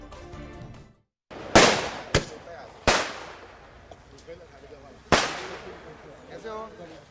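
Firecrackers burst at a BJP MLA's arrival, with four sharp loud cracks spaced about a second apart after a brief pause, over faint background voices and crowd noise.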